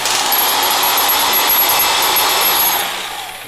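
A Makita 17mm demolition hammer chiselling, a loud, dense, continuous rattling hammer roar right up close that runs steadily, then eases off slightly toward the end, with no voices.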